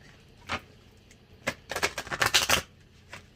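A deck of oracle cards is shuffled close up: a few isolated riffles at first, then a quick burst of crisp card flutters, and a final soft snap.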